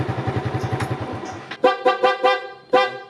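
A Yamaha Mio scooter's horn sounds in several short, loud honks after a steady low engine idle, with a longer final blast.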